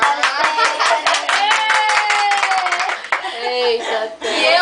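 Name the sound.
applause for Stephanie at a baby shower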